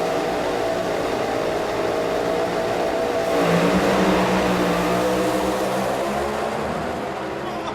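Drag racing cars at the start line revving their engines, a loud continuous roar that rises and swells midway as the throttles are blipped, with the engine noise filling the whole stretch.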